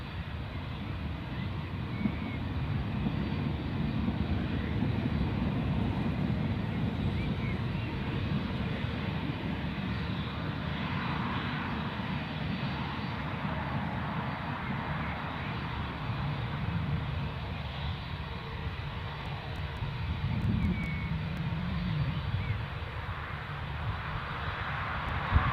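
British Airways airliner passing at Newcastle airport, a sustained low jet rumble swelling and easing over many seconds, fairly distant with faint wind noise.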